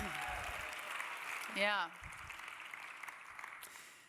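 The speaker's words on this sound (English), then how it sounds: "I didn't plan for the applause break there" Audience applause fills the hall at the Ambies awards ceremony as a soft, steady wash of clapping, with a short spoken word from the stage rising briefly over it midway.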